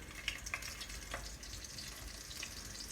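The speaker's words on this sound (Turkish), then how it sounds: "cızırdamaya başladığı zaman da köfteleri atacağım" Meatballs frying in hot olive oil, a steady faint sizzle and crackle with occasional sharper pops and spits, close by and alone.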